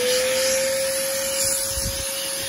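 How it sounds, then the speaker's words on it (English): Wet and dry vacuum and blower with a brush attachment running steadily, a loud continuous motor whine and airy rush with a fixed tonal hum, with scrubbing rises as the brush moves over a surface. "this is the wet and dry vacuum and blower. So we got our little brush attachment."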